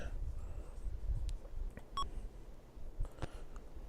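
A heart monitor in the DOS surgery game Life & Death gives a short, clear electronic beep partway through, over a low rumbling background with faint scattered clicks.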